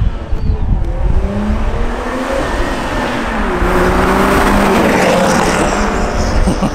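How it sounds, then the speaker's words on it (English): A 2021 Toyota A91 Supra pulls out and drives off, its engine a steady, loud rumble close by that builds slightly in intensity, with no voices over it. "I'll have her drive the car"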